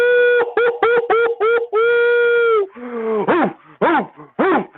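A dog barks close and loud in a rapid run of sharp, tonal yelps, then gives several longer, drawn-out cries that fall in pitch. No one talks.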